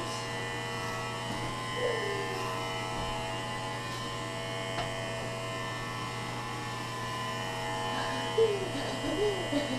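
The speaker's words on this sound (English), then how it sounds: "just shave the whole back off, but not the front" An electric shaver or clipper removing a full beard: a steady, tonal mechanical buzz with constant hum, running continuously at close range with slight shifts as it moves over the hair.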